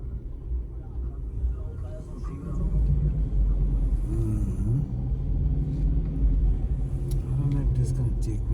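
A four-wheel-drive vehicle drives on a snowy, icy road, its low engine rumble and road noise steady and swelling slightly louder partway through, while a person talks over it.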